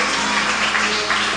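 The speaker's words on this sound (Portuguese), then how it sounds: "Você pode aplaudir ao Senhor Jesus, querido." Steady applause from a church congregation, dense and continuous throughout, with no voices standing out.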